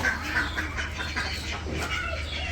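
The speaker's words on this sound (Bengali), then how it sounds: "হাঁসের সাথে সাথে হাঁসও প্যাক প্যাক করতেছে" Village ducks quack in a few quick nasal bursts, close and fairly clear over a low background rumble.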